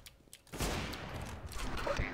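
A shotgun firing in a video game, one loud, close blast that rolls into a rough, lingering burst of noise, with faint talk before it.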